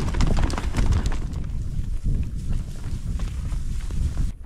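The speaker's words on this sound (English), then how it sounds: "back on the run, on horses that never break a sweat and never seem to tire" Horses running on a Wild West trail ride, hooves clip-clopping in a fast, close, loud rhythm with wind rushing past the microphone, continuing steadily before cutting off abruptly.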